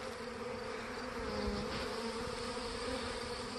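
Dense, continuous buzzing of a honeybee swarm on a tree limb, steady and fairly close, with no voices.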